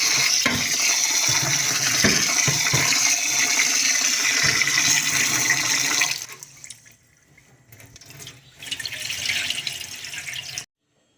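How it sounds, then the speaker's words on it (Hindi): Water pours from a tap into a pot of rinsed rice for peas pulao, a loud steady rushing stream for about six seconds, then a pause and a shorter second splash before it stops. "अब हमने दोबारा इसमें पानी डालना है"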